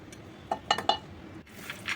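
Roasted khoa is moved into a bowl with metal utensils, giving three or four quick, close clinks and taps of spoon against bowl in a quiet kitchen, then a soft scrape.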